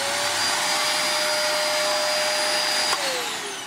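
A vacuum cleaner roars steadily up close while hoovering up loose ballast from a model railway layout, its motor whine holding constant and then dropping slightly in pitch near the end as the load changes.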